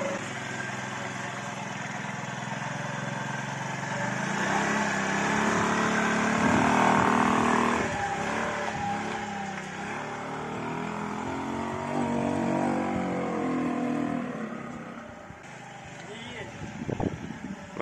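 Small two-wheeler engine with a carburetor needing tuning, idling and revving unevenly, fairly close and steady, with people talking over it.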